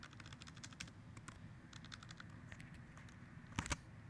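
Keys clack on a computer keyboard as a name is typed, a quiet irregular run of taps with a couple of sharper strikes near the end.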